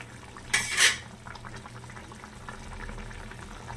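A metal pot or utensil clatters once in a short bright burst while snakehead fish curry with tomato and potato cooks, followed by a soft steady simmer in a quiet kitchen.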